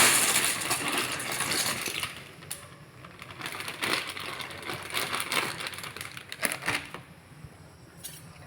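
Clattering, rattling crunches as dry pasta tumbles into a pot, over a hissing bubbling background, in a few bursts.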